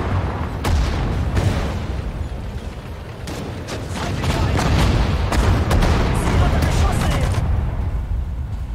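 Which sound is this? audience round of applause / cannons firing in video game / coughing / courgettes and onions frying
cannons firing in video game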